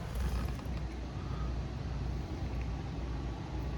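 A VMA 3020GH industrial sewing machine hums and clatters steadily as its needle cycles up and down, a continuous close mechanical whir with no pauses throughout.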